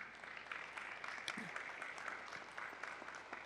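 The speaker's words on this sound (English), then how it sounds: "So if y'all could give Zane a round of applause" A faint, fairly distant round of applause from the crowd at a veterans appreciation event, steady patter of clapping across a few seconds.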